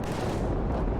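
Gunfire in Killzone 3, played with a gun controller: a dense, continuous boom of loud, low shots, with a sharp burst at the end.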